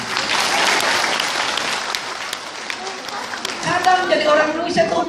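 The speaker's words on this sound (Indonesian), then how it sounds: "Tepuk tangan dong." An audience at a public lecture in a Hong Kong stadium claps steadily, a dense wash of hands that thins toward the end as a voice begins speaking over it.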